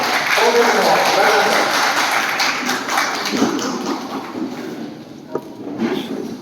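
An audience at a training session claps together, a dense burst of applause that thins and fades over several seconds while a voice carries on over it.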